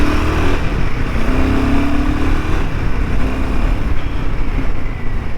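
Royal Enfield Himalayan 450 with a 452cc liquid-cooled single-cylinder engine, heard up close in traffic as a loud, continuous engine drone with a rising rev note partway through, and no voices.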